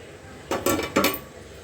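Boti curry being served from a metal pot into a bowl, with a few close clinks and scrapes of a ladle against the vessels, heard alone in a quiet kitchen.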